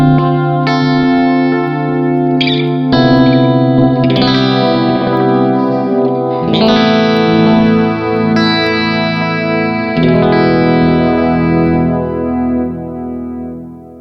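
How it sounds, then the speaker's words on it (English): Electric guitar through a thick, dark Free The Tone delay pedal, strummed chords smearing into dense echoing repeats heavy in mids and bass, loud and sustained throughout. "So it's a really, really thick sounding delay."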